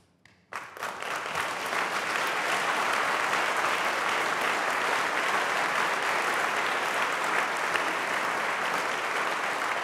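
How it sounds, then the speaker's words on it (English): After a brief quiet moment, a large crowd at the 2015 University of Washington President's Address erupts into loud, continuous applause that holds strong for the rest of the stretch. "That applause is for us"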